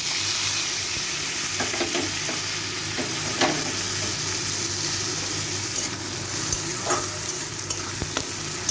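Onion, tomato and garlic fry in a hot pan for a fish jhal curry, giving a steady close sizzle with scattered scraping stir clicks throughout and no voices.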